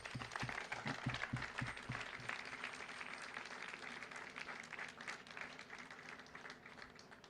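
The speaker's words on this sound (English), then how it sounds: "Another round of applause for our mayor." Crowd applause at an outdoor groundbreaking ceremony for new housing at the Parks at Walter Reed, a dense steady wash of clapping that holds at even loudness for several seconds, with a few low thumps near the start.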